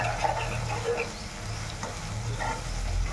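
Ginger and small onions frying in a pan, a steady soft sizzle with faint stirring scrapes running continuously at a low, even level with no voices.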